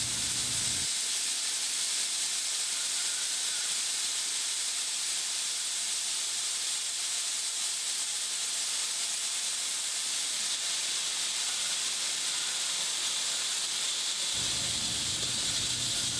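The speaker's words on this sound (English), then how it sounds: "We want to see the gaseous nitrogen vapor escaping from the hand-tightened connections." Nitrogen vapor from liquid nitrogen hisses steadily and loudly from hand-tightened cryo inlet connections on a thermal chamber line, a continuous close rush that holds throughout.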